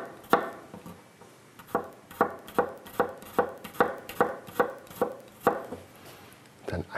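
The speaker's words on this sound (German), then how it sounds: "Dann legen wir uns den auf die Schnittfläche und schneiden ihn hier einfach in dünne" A knife cuts meat into thin slices on a cutting board for beef goulash, a steady series of sharp, close thunks at an even rhythm, with no talking.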